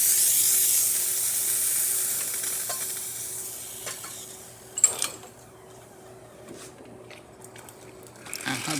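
A Profitec espresso machine's steam wand hisses with a steady, close rush of steam that fades after a few seconds into quieter hissing and clicks, then swells again at the end.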